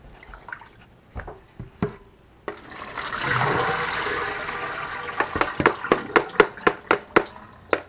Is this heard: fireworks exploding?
no